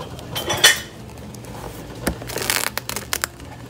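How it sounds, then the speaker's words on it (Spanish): A knife on a cutting board chops salami and cheese, with quick uneven taps and knocks, some faint crinkling and clinks between strokes, close and fairly clear with no talk. "mientras yo pico el salami y mientras pico el queso"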